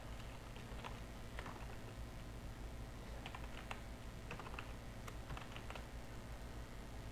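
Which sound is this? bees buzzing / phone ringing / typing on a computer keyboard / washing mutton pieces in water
typing on a computer keyboard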